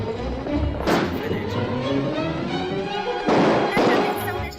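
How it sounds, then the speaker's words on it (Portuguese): Several loud gunshot bursts crack out in an Old West setting, one early and two close together later, over a rumbling, noisy background. "Tiros."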